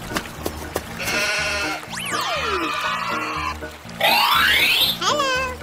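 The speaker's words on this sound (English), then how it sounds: "Sheep." Cartoon sheep bleating in a 3D animal-crossing painting game, a few wavering bleats rising over bouncy background music and playful sound effects, loudest near the end.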